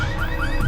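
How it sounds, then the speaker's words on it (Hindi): A green Volkswagen's car alarm blares steadily, its siren tone sweeping upward in repeated rises over a low rumble, loud and continuous throughout the brief moment with no talking. "वो गाड़ी का अलार्म बज रहा है।"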